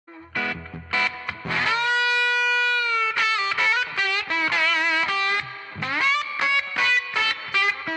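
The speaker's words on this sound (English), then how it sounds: "since I mentioned the slide guitar, let's just pop it in where it plays" A slide guitar plays gliding, sustained notes with a distorted, effected tone in a loud, dense music mix.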